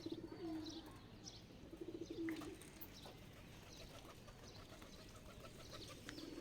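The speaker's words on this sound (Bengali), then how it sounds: "আর এই যে কবুতরগুলো" Wild forest pigeons cooing close by at a house, soft repeated throaty coos in short bursts over quiet background, with faint chirps, no talk.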